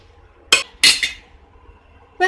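A metal spoon scrapes and clanks against a pot of fenugreek leaf and lentil curry in a few sharp, separate strokes with quiet pauses between them.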